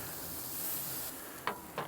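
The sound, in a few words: spraying liquid onto ribs on grill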